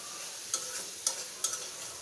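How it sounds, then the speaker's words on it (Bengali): Dried taki fish shutki being cooked down with spices for an aloo bhindi dish, a few soft scrapes of stirring standing out over a low, steady sizzle. "আমি টাকি মাছের শুটকিটা রান্না করতেছি।"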